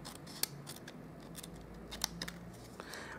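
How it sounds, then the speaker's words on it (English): Scissors snip a small paper tab off a crafted popcorn box, a few soft, close, quick cuts with faint rustling of paper between them. "So I'm just going to cut off the that little tab at the end there."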